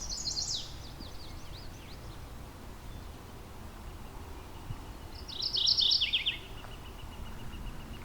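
Chestnut-sided warbler singing high in a tree in the Halton Forest, two bright, quick song phrases, one brief at the start and a louder one later, moderately distant over light wind noise.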